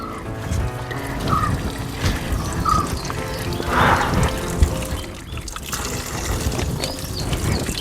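Mountain spring water on the Velliangiri hills flows and splashes as it is collected, a close, continuous pouring trickle with some faint outdoor background sound.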